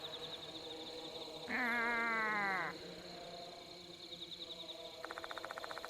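A character in the video game Spirit Hunter: Death Mark II imitates a cat's meow: one drawn-out voiced mew over quiet background music, followed later by a short buzzing, rattling game effect.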